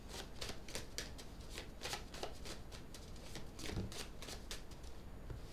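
Tarot cards are shuffled close by, a rapid series of crisp riffling flutters repeating in short bursts, faint and alone.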